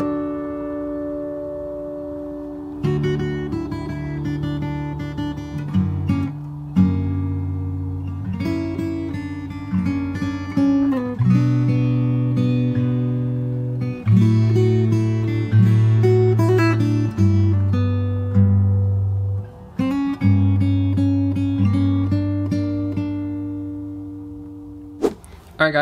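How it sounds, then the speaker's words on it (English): Fingerstyle acoustic guitar plays the chorus slowly, sustained chords and plucked bass notes ringing close and clear for about twenty seconds after a brief silent start, with percussive slaps marking the beats. "let's try playing the whole chorus slowly from the start"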